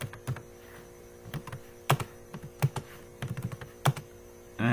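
Keys clack on a computer keyboard while C++ code is written, in uneven short bursts of close, distinct taps over a faint electrical hum.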